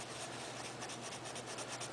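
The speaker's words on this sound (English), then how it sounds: "we're going to use just straight sandpaper without the sanding stick on it" Plain 400-grit sandpaper, used without a sanding stick, rubs a part of a 1/48-scale Nu Gundam plastic model, giving a steady, continuous dry rasp close to the microphone with no pauses.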